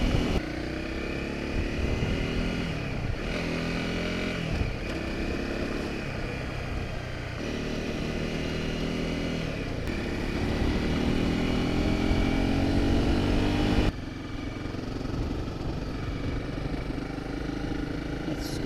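A motorcycle rides along gravel country roads on the Yorke Peninsula in South Australia, its engine droning steadily and close with rising and falling revs as gears change, and wind rushing throughout.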